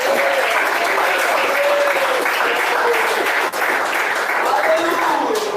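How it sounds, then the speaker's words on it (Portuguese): Steady, dense applause from a large crowd at a church service, continuous and loud throughout, with a faint voice or tone lingering underneath. "Bate mais palmas."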